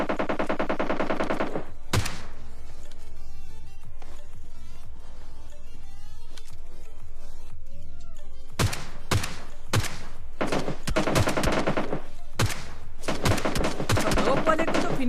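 PUBG gameplay gunfire, loud rapid bursts of automatic fire with single sharp shots and thuds, close and punchy, set against continuous in-game sound.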